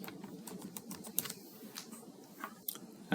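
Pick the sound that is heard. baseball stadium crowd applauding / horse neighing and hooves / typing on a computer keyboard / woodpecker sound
typing on a computer keyboard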